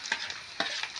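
Dried chillies and curry leaves frying in hot oil for a vadukapuli lime pickle, a steady close sizzle with sharp crackling pops at irregular intervals.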